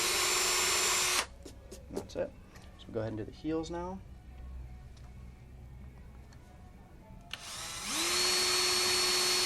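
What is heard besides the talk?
power drill drilling holes in figure skating boot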